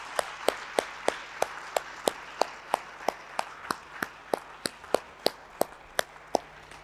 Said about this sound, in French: je vous demande de nouveau de les applaudir tous ensemble.